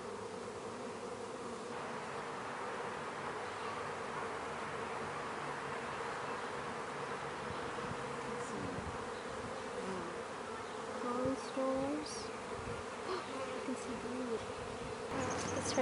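Honey bees buzz in a dense, continuous drone at an open hive during a spring hive check, close by, with faint handling sounds and a few louder passes near the end.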